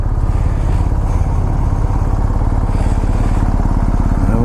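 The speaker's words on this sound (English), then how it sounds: "The R1250GSA exclusive. Listen to that motor." A BMW R1250GSA Exclusive motorcycle's engine runs nearby at a steady idle. The loud, even, rapidly pulsing rumble continues throughout with no talking.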